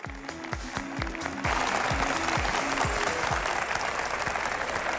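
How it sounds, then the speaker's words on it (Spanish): An audience in a hall applauds to welcome a president. Scattered clapping mixes with repeated deep thumping tones at first, then the applause swells into a fuller, denser round that carries on steadily to the end. "Un aplauso para él,"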